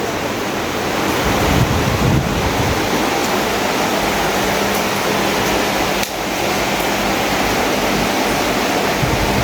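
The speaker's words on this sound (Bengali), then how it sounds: "বৃষ্টিতে ভিজে যাবে, ব্যালকনিতে বৃষ্টি আসতেছে।" Heavy rain pours onto a balcony in a dense, unbroken roar, loud and close throughout, with no voices.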